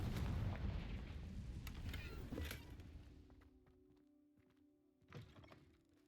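A Confringo spell blast in a video game: a heavy, rumbling explosion opens loud and decays over a few seconds, followed by a smaller thump near the end.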